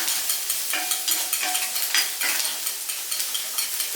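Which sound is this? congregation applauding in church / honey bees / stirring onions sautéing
stirring onions sautéing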